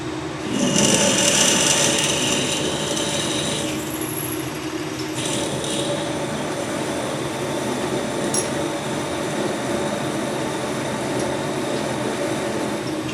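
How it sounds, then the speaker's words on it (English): A steady, grinding mechanical whine of a drill boring into metal, continuous and fairly loud throughout with no speech. "I'm going with a pilot drill first."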